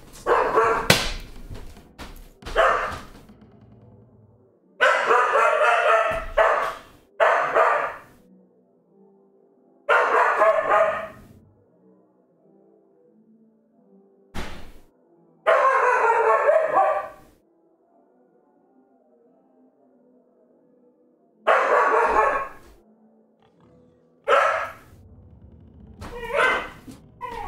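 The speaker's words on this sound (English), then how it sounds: "Sorry about the dog barking." A dog barking indoors in loud, close bursts of several rapid barks, separated by silent gaps, repeating about seven times.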